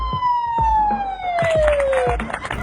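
A car alarm siren under test, of the kind commonly fitted alongside Russian car security systems, sweeps in a long falling wail with repeated pulsing bursts, loud and close, with no talk over it.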